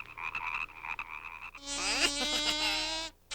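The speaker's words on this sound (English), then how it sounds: "make frogs appear from the water" A frog gives a loud, drawn-out croaking call that starts suddenly after a quieter stretch of ambient noise, then stops abruptly.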